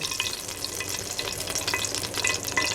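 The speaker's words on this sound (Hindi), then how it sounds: "ऑयल अभी गर्म हो रहा है" Cooking oil heats in a pan for beef paya, giving a steady close crackle and sizzle with small popping specks throughout.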